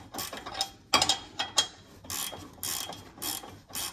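A ratchet spanner clicks in short bursts of rapid pawl ticks, close and distinct, with brief pauses between strokes while working on a vehicle's ignition system.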